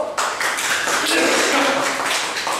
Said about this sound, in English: Good show, round of applause.